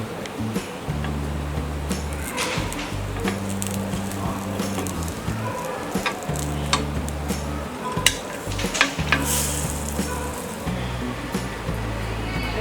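A potato pancake cooks in a pan, giving off a steady sizzle with scattered scraping and clattering as it is flipped, over a low droning background.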